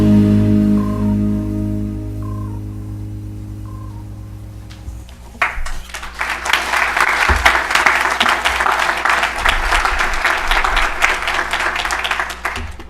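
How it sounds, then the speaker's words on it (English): Audience applause at a school governing board meeting, starting after several seconds of tonal beeps and electronic hum, then rising into steady, fairly loud clapping from a room full of people that continues to the end. "And as I hear those applause"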